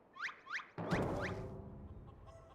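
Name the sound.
chicken clucking in Final Fantasy XIV video game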